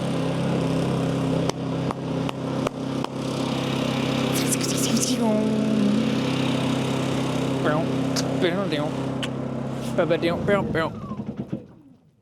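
A small engine that has sat unused for a while, run on choke in an outdoor setting, gives a steady near drone for most of the stretch, then sputters and dies away at the end, with bird calls and occasional voices over it.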